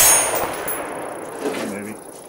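A rifle round striking a steel target at 600 yards gives a single bright metallic clang that rings and slowly fades, heard alone at a distance.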